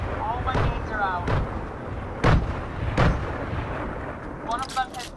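Grenades exploding in an online team shooter video game, several loud blasts landing about a second apart over a busy rumble of game noise, with talk heard alongside.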